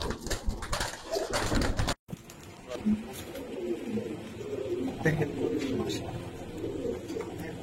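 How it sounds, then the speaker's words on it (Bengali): Pigeons coo in a low, muffled background murmur at a home loft, with a brief drop-out early on and someone talking nearby. "দেখেন ভাই এগুলা কবুতর ভাই বিশ্বাস করবেন দেখেন"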